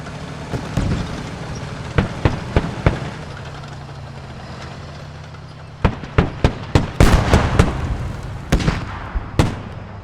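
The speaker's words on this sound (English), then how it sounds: "There's another hit on the tank" Explosions and shots striking a tank in a team-based video game match: a cluster of sharp blasts early, a quieter pause, then a dense run of loud, rapid impacts.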